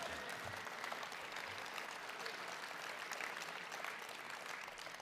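Conference delegates at a municipal federation convention give a continuous wash of applause, even and unbroken from start to finish, heard faintly at low level as if from a distance in a large hall.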